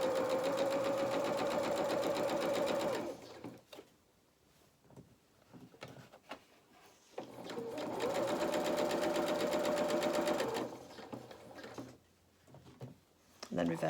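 A sewing machine stitching a fabric pinafore pocket runs in two steady bursts of rapid mechanical whirring, with quiet handling and fabric sounds between them.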